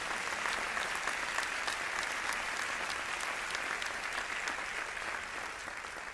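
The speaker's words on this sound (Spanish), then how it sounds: "Dale un aplauso a Dios." A church congregation applauds steadily, a dense, sustained wash of clapping that fills the room at fairly close range and eases off slightly near the end, with no voices over it.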